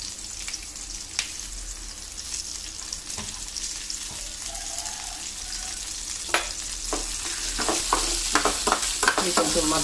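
Green chillies and vegetables fry in hot oil, a continuous sizzle with scattered sharp pops and crackles and occasional stirring, growing slightly louder toward the end.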